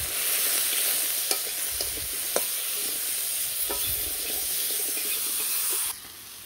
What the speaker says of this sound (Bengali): তো বেশ ভালো করে ভাজলাম।